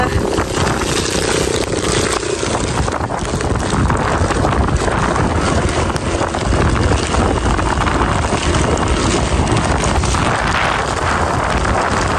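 Strong wind buffeting steadily in a loud, continuous rushing roar, close to the microphone, with no voices.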